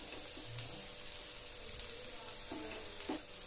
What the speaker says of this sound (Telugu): బాగా ఫ్రై చేసుకుంటామండి